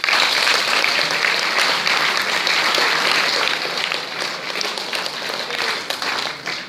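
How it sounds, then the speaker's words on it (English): A college audience at Sona College in Salem, Tamil Nadu, applauds steadily, dense clapping filling the room, holding strong before tapering slightly toward the end. "You can clap yourself."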